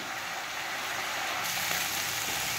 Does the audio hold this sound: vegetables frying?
yes